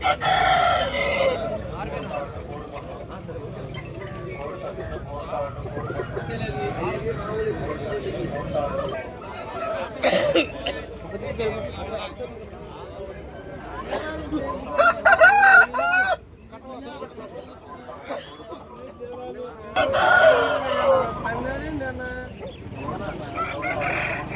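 Native chickens and roosters at a farm cluck, with roosters crowing several times, some close and some farther off. People talk throughout over the birds.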